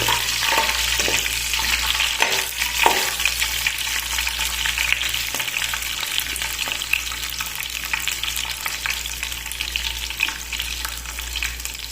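Green chillies for dal moong fry in a pan with a steady, close sizzle and occasional stirring scrapes near the start, with no talk.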